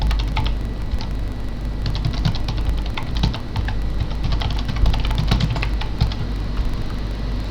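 Steady, fairly loud keyboard typing on a computer while an email is composed, with bursts of rapid clicks and brief pauses over a constant low background hum, no talk.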